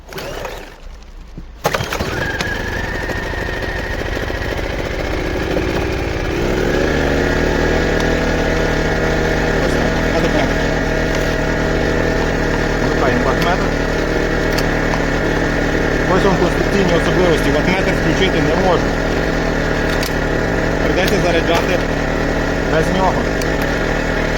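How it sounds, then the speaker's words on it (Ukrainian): A KOMPAK dual-fuel inverter generator, 2.3 kW petrol and LPG model, is pulled into life after a brief quiet moment and settles into a steady close humming engine drone that holds evenly to the end. "Вмикаємо масу, перекриваємо заслонку і заводимо генератор."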